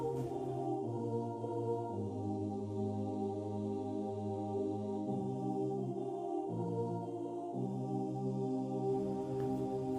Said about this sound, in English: I then opened Expand and used this choir preset,